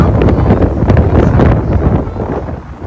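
Strong gusts buffet the microphone on a bridge on the way to the beach, a heavy low rumbling roar that surges and eases, loud and close.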